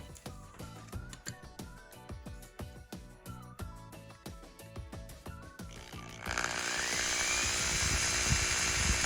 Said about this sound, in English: we're going to drill a hole right in here